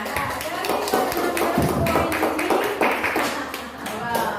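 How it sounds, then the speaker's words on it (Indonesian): A class of students in a school classroom claps hands together, a dense, steady patter of many hands under some talk. "Tepuk tangan."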